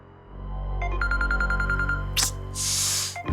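A phone rings with an electronic ringtone melody, a short rising run of bright repeated tones up close, followed by a sharp hiss and swish.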